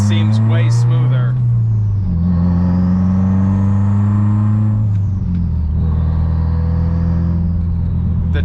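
A car with a sixth gear pulls out and accelerates, its engine revving up steadily through the gears with a loud, close rumble inside the cabin, and no talk over it.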